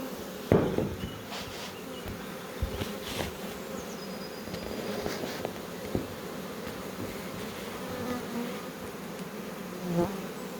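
A swarm of honey bees near a hive in April, a steady close buzzing drone from many insects with a few brief knocks, loud and continuous, no voices.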